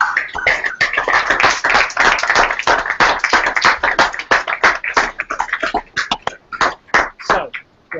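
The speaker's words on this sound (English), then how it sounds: "a massive round of applause" Scattered clapping from a small group, uneven and patchy, with individual hand claps standing out and thinning toward the end.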